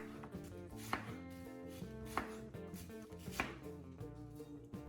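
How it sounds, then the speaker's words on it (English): A knife cuts a pineapple into even round slices, giving repeated crisp chopping knocks in a steady rhythm, close and clear with no voices. "Next, simply cut the pineapple into even round slices."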